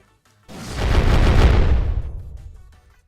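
Fire sword skill X in the Roblox game Mun Piece detonating: a sudden loud explosion bursts in after brief quiet, a heavy roaring blast that swells, holds about a second, then slowly fades out.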